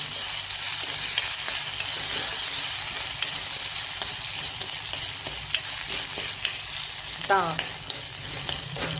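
Kadhi ingredients frying in a pan give off a steady, close sizzle that lasts throughout, with a few faint clinks and a short scrape near the end, and no one speaks.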